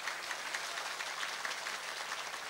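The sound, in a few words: audience applauding for the police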